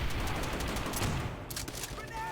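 Rapid machine-gun bursts ring out in a Call of Duty: World at War battle on Peleliu, dense gunfire that thins toward the end, with voices talking over it.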